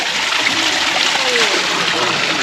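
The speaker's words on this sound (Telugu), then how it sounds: "రైట్ సైడ్ అయితే ఇక చిన్న కాలువ పోతూ ఉంటుంది" A small, crystal-clear stream flows and splashes at the Medaram Sammakka Sarakka Jatara site, a steady close babble of water with a voice briefly heard over it.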